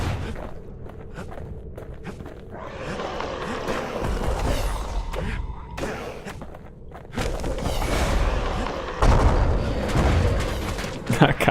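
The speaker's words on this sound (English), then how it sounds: "That cannon shot, special one." Cannon shots in the video game Bastion sound as a string of booming thuds and sharp impacts over a busy game soundscape, the blasts coming in uneven bursts and swelling louder toward the end.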